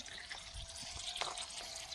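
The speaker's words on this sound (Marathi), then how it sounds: "जाय लागलं पाणी" Water gurgles and trickles through a pipe, a light uneven pouring sound with a few soft splashes, fairly close.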